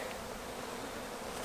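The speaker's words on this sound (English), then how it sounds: "the bees are fighting them off and corralling them to keep them out of their hive" Bees in a hive inside an abandoned chicken barn, fighting off invading ants, give a dense, steady, close buzzing hum throughout the brief moment.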